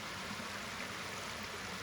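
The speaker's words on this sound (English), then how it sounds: "Just like this nice pleasant waterfall that we're sitting on" A small waterfall pours into a large pond, giving a steady, even rush of falling water that is soft and fairly distant, with no voices over it.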